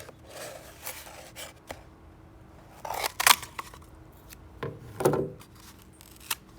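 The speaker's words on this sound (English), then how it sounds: "The first thing you will need to do is your paper towel roll. You will need to cut it in half." Scissors cutting a cardboard paper towel roll in half, a few sharp snips and crunchy scrapes close up, with quiet pauses between cuts and no talking.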